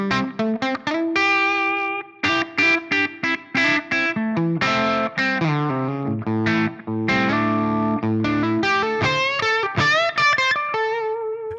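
Gibson SG electric guitar played through a Kinetic amp model with reverb, a run of crisp picked notes and ringing chords with short pauses, clear and alone.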